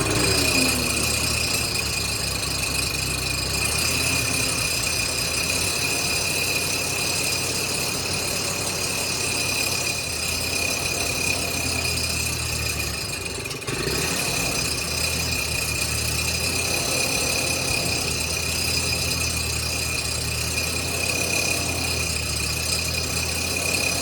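A Ford 8N tractor engine runs steadily after being choked, a loud continuous mechanical drone with a high squealing whine and rattles throughout, with a brief dip near the middle.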